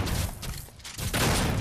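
Shotgun blasts in the Doom beta, two loud, punchy shots with a brief rolling tail after each, the second arriving about a second after the first.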